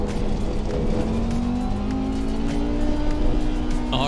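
A race car in Assetto Corsa Competizione pulls out of the pits, its engine droning steadily with rising revving tones. The sound is loud and continuous throughout.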